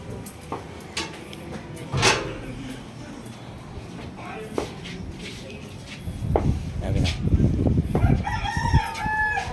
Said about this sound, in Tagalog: Nandito yung manok niya sa itaas.